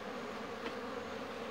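Honey bees from a captured, aggressive swarm buzz around an open Apis hive during an inspection, a quiet, continuous droning hum with slight swells and no voices.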